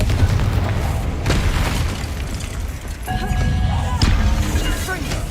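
Confringo spell explosions in the Hogwarts Legacy video game, a series of deep booms and bursts with rumbling low end and crackling debris, loud and close, with a voice speaking over parts.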